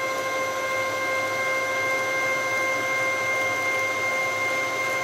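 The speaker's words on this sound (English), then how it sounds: "And the motor is obviously moving up and down, maybe 1/8 of an inch per revolution." A CNC machine's stepper motor moving an axis, a steady close whine with several sustained tonal hums over a soft mechanical hiss, unchanging throughout with no talk.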